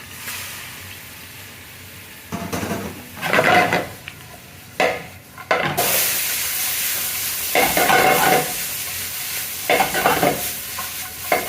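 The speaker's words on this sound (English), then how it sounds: "we're going to saute this for about 2 minutes" Bok choy and hot peppers sauté in a pan, a steady sizzle broken by bursts of loud stirring and scraping of a utensil against the pan, with no one speaking.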